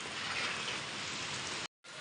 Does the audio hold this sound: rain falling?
yes